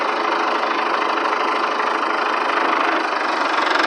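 An International 624 tractor engine idles in neutral, a steady, dense mechanical rumble that holds an even level throughout without revving, close by and with no one speaking.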